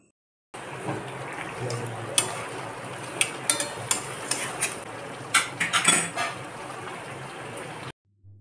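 Yogurt chicken being stirred in a pan with a little sugar and salt: scattered metal-on-pan scrapes and clinks, clustering toward the middle, over a steady background hiss, with no talking.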